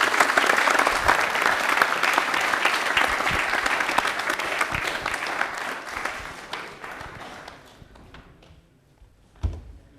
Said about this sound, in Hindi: तालियां हो जाए मेहरू के लिए एक बार कर रहा हूं।